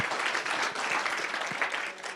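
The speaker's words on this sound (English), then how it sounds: "let's give one more round of applause to all of our groups who presented here today." A crowd at an exhibition of presented group projects applauds steadily for about two seconds, dense continuous clapping filling the room with no talk over it.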